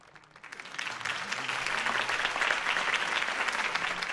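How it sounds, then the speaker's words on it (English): Applause in the Batman Telltale Series game swells from a quiet start into sustained clapping from a large crowd, steady and loud throughout. "could have heard that applause"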